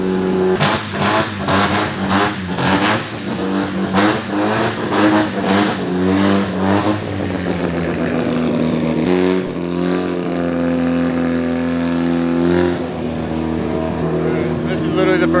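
Mazda RX-7 project car engine revving hard in rapid bursts, then holding a loud, raspy, steady roar close by, with no talk over it.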